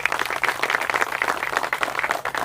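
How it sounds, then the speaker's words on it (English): A crowd applauds at the groundbreaking ceremony for improvements to Isaac D. Rodriguez Park. The clapping is a steady, dense round that holds evenly from start to finish, with no talking over it. "Let's give them a round of applause as well."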